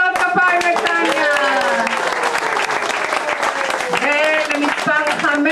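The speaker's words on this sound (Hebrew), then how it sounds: "מחיאות כפיים לטניה." An audience applauds a contestant at a talent show, sustained clapping with cheering voices and whoops mixed through it.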